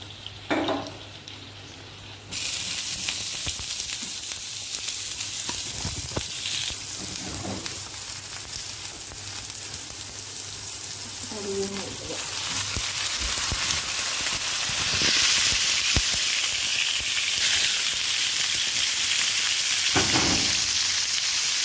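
Oil and gola kebabs sizzle on a hot grill pan, a loud steady crackling hiss that swells partway through, with occasional clatter of handling and no talk.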